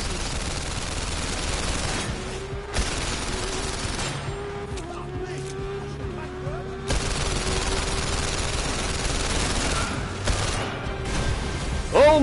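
Gunfire in the VR game The London Heist rattles off in loud, rapid automatic bursts with short pauses, and a voice speaks over parts of it.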